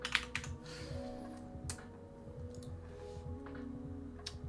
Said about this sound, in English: If I can fucking type today.